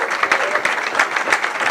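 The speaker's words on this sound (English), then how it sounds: "let's give him a well-deserved round of applause" An audience applauds a sheriff at a gathering of community leaders, a dense steady round of close clapping with a few louder bursts and faint crowd voices underneath.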